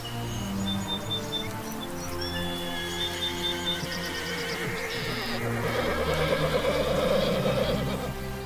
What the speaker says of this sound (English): They sense a herd of horses nearby and decide to hunt.